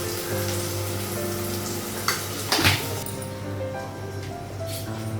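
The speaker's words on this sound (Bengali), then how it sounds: "মশলাগুলো ভালো করে কষে নিয়েছিলাম" Ginger paste and cumin powder spices frying in a pan with panch phoron, a steady close sizzle with a brief clatter of a utensil against the pan midway.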